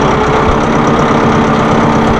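A compact tractor's diesel engine runs steadily while maneuvering, a loud, close, even rumble with a slight knocking texture and no talk over it.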